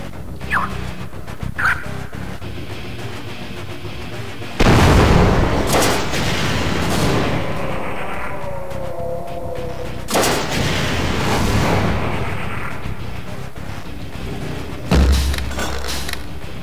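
Gunfire in Half-Life: Source, with heavy booming shots and crashes bursting in around five and ten seconds and again near the end, loud and close over quieter game ambience.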